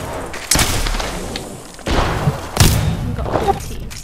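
Gunfire in the Apex Legends video game comes through as heavy thumping bursts, with several loud booming shots spaced across the moment over a busy background, and no speech over it.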